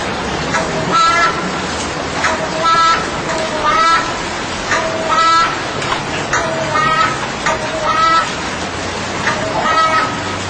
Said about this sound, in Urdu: یہ دیکھیے یہ کوا اللہ اللہ کی صدا بلند کر رہا ہے۔